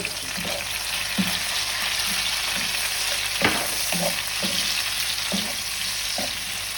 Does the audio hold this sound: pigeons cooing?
no